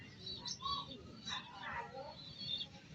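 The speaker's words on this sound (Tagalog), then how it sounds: "Yan yung ating mga ibon." Pigeons coo and chirp softly at close range in short repeated calls, with faint background murmur.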